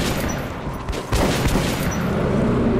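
Rapid gunfire in the Metro 2033 Redux video game: a steady run of quick shots with booming impacts over a dense background, loudest in the second half.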